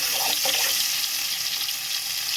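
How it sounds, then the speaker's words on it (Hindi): Butter drops into hot oil in a frying pan and sets off a loud, dense, continuous sizzle up close, with brief crackly bursts at the start. "इसमें हम डालेंगे थोड़ा सा बटर"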